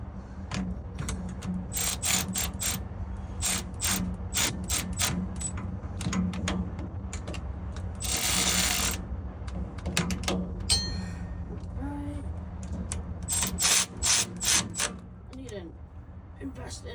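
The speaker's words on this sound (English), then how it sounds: "I will indeed tighten those with the wrench." A ratchet wrench tightening bolts under a diesel pump, heard as bursts of quick metallic clicks in short runs, repeated through the clip with scraping and handling noises and low background hum.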